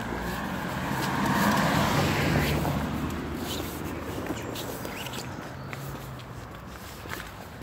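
A car passes along a road at speed, its engine and tyre noise swelling to a peak and then fading away, with continuous broadband road noise and no voices.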